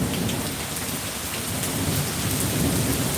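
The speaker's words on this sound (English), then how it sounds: "there's all this rain and stuff happening" Steady heavy rain falls outdoors during a thunderstorm with the power going out, a dense continuous hiss with low thunder rumbling underneath throughout.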